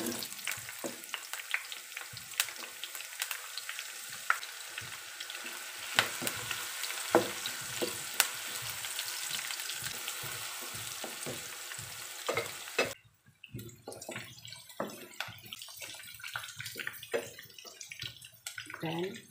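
Onions fry in a pan for sardines with a bright crackling sizzle and frequent stirring clatter, then the hiss drops away and scraping and tapping continue under occasional speech.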